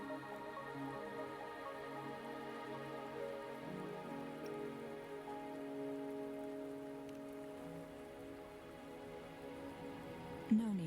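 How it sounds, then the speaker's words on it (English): Rain in the video game Wuthering Waves, a steady soft patter on surfaces under sustained musical tones, constant throughout with a brief louder sound near the end. "Are you trapped here by the rain?"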